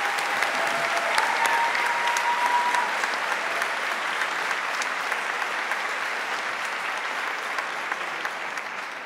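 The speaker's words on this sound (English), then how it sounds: "let's give one more round of applause to Lee and Linda for their generous gift." A large audience at a speaker series event featuring President Bill Clinton gives a sustained round of applause, a dense, even wash of clapping that holds steady and slowly tapers, with a brief tone briefly audible early on.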